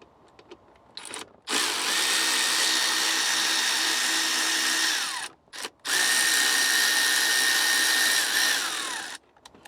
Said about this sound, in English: we're gonna use a T20 Torx, and just go ahead and unscrew these